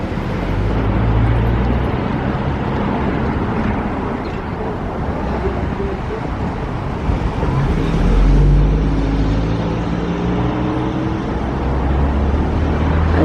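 A Corvette sports car rolls past with a steady, full low engine rumble that swells and fades, heard close over constant roadway noise.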